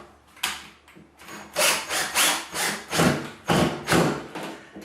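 A power drill whirs in a series of short bursts, driving a screw into a GFCI receptacle's box, each burst rising and stopping with brief pauses.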